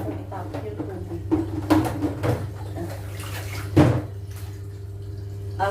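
Water sloshing and splashing as a baby is bathed, with soft irregular splashes and a couple of louder bursts over a steady low hum, close by.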